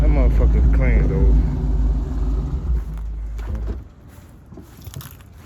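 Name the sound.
car engine, Dodge Magnum, driving down street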